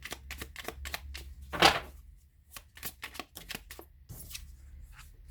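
Tarot cards shuffled for a reading, a run of quick papery riffles and flicks close by with one louder burst of cascading cards in the middle, no talking.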